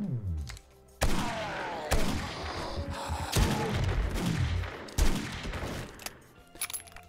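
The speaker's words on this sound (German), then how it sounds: "Ich gebe zu, das war ein Angstschuss." Gunfire in the survival video game 7 Days to Die, with several sharp, loud shots spaced irregularly, each ringing out with a decaying tail, amid quieter in-game noise.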